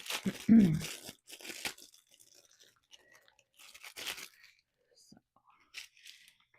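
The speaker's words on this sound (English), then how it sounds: "And let's move this bag out of the way." A plastic bag of diamond painting gems is shifted and crinkled, giving a loud close rustle at first, then scattered softer crinkles and taps with quiet gaps.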